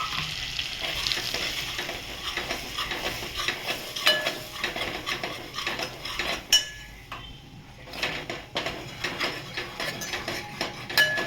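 Dry masala frying in butter in a pan sizzles steadily while a metal spoon repeatedly stirs and clinks against the pan, close and fairly loud.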